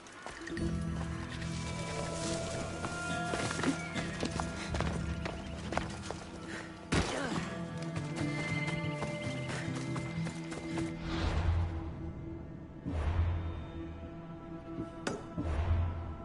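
Horse hooves clip-clopping at a run in the game Assassin's Creed Odyssey, with a whinny and dense game music and effects layered over the hoofbeats throughout.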